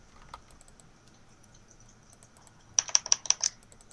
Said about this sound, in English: I got so used to the clicking that I actually became a good clicker.